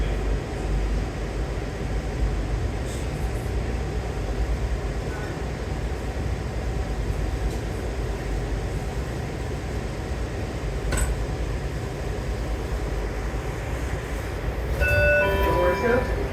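A DC Metro Blue Line train car rolls along with a steady, loud interior rumble and hiss, and a brief bright chime sounds near the end.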